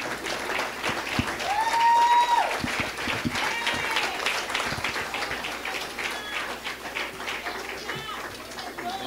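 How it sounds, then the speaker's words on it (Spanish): Sustained clapping from a church congregation fills the room, mixed with crowd noise and voices throughout, holding steady across the whole stretch. "vamos a estar dando un fuerte aplauso al Señor"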